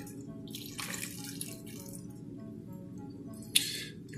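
About half a cup of water pours into a crock-pot, a soft, brief trickle and splash heard close up, ending with a small clink of the container.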